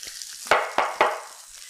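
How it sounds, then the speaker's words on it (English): Asian pork meatballs fry in a pan with a bright, steady sizzle, punctuated by three quick scraping bursts as they are moved and turned. "I hear you sizzling."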